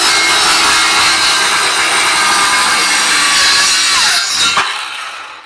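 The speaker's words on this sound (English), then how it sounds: "So I'm going to put the blade on this, just on this side of the line," A Ryobi cordless saw cuts through a piece of wood for a garden raised bed, a loud steady buzzing rasp running for over four seconds before the blade stops and the sound quickly dies away.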